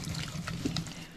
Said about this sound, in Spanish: Y ponle poco agua, cuanto tú quieres.